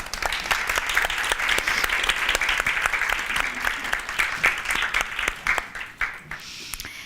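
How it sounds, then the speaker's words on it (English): An audience at a spring opening ceremony applauds, a dense, sustained burst of many hands clapping, loud and close, thinning toward the end. "Let's give them a round of applause"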